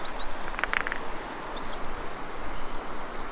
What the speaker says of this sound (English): Man, that bird is loud. Some sort of sandpiper.